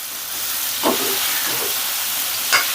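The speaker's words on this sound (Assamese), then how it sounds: "ধুনীয়াকৈ তেল হালধিৰ লগত এয়া মিলাই দিছোঁ দেখিছেনে" Chopped drumstick pieces stirred in hot oil with turmeric, giving a steady soft sizzle and hiss with a couple of brief scraping stirs of a spoon in the pan.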